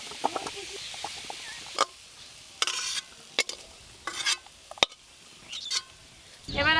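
Fried potatoes are stirred in a pan and tipped out: irregular scrapes and knocks over a faint sizzle, ending in a loud, rushing pour. There is no talk.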